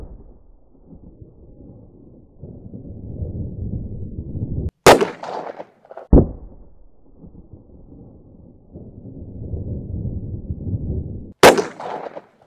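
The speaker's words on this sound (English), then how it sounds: "Next up, we're shooting the channel's new 44 Magnum firearm," Two loud, sharp gunshots from a Taurus Tracker .44 Magnum revolver fired at a 3A vest, the first near 5 seconds with a brief follow-up crack, the second near 11.5 seconds, each sharp report rising above a low rumbling outdoor background.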